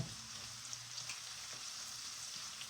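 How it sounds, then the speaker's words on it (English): Soft, steady sizzling of garlic frying in a pan, a continuous crackle with no voices. "So we just cook the garlic until we can just smell it."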